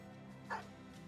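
A single short dog bark from the video game Battle Brothers sounds about halfway through. It is faint and brief against a quiet, even game-music background.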